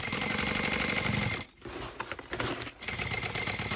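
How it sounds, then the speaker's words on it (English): A sewing machine backstitches over the webbing of a tote bag, close rapid needle clatter that stops briefly, resumes in short bursts, then runs steadily again. "Back stitch over the webbing"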